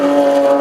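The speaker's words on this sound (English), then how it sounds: "Let's listen to that Bull Run Lotus." The Bull Run Lotus race car at Brands Hatch gives a loud, close engine note, holding a steady pitched tone through the short moment.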